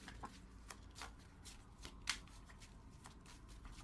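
A deck of tarot cards being shuffled close up, quiet repeated riffling flicks and soft slaps in an irregular rhythm with a slightly sharper snap near the middle, no talk.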